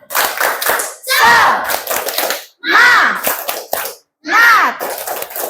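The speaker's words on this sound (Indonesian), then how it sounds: "Ah, coba tepuk semangat." A classroom of students performing a rhythmic spirit clap, bursts of quick patterned hand claps in three rounds separated by short pauses, with voices mixed in.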